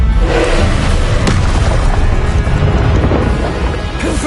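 Expelliarmus disarming spell firing in Hogwarts Legacy combat, a loud booming crack followed by sustained roaring, clattering impacts and scattered thuds over several seconds, no voices.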